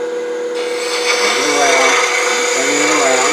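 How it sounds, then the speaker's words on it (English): A spindle gouge cuts into spinning wood on a lathe while shaping the end of a turned Easter bunny, giving a loud, continuous scraping whir with shifting pitch as the tool rides the bevel. "spindle gouge to shape the end of this"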